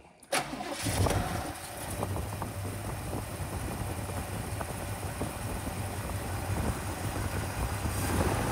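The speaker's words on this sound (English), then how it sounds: "How good it's cranking." A 1971 Chevelle engine cranks briefly, then catches and settles into a steady, loud idle with a low rumble that continues throughout, no talk over it.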